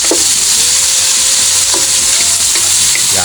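Food with bacon frying in a pan while being stirred, a loud, continuous close sizzle with scraping and tapping of the utensil against the pan.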